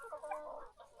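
Chickens clucking close by, a short burst of several quick throaty clucks lasting about a second.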